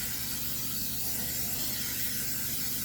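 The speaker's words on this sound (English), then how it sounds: "we're going to take that baking dish, spray it down with some spray" A continuous spray of cooking oil hisses close up onto a baking dish for a few seconds, steady and unbroken.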